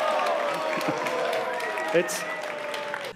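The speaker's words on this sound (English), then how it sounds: "I could pick out like the 4 guys in the crowd cheering for it" An audience at the E3 2018 conference cheers and applauds in a steady wash of clapping, while a voice briefly speaks over it.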